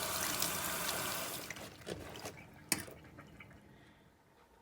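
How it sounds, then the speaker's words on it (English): Running water from an indoor tap splashing as a bleached garment with a hot glue stencil is rinsed, steady and close at first, then thinning to faint trickles and drips. "we are going to take it inside and start rinsing it off so that it doesn't just go absolutely crazy"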